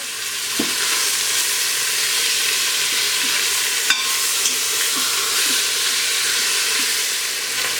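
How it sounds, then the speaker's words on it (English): Pork chops browning in an Instant Pot, a steady close sizzle of frying meat that holds loud and even throughout, with a few faint taps and pops and no talking. "Now I'm going to brown them for about, I don't know, a couple minutes on each side."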